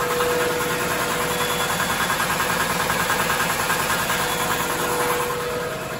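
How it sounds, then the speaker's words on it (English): A ZR192 Chinese diesel engine driving a generator runs steadily at idle close by, a continuous rumbling drone with a fast, even pulsing beat and no talk. "And here's the generator."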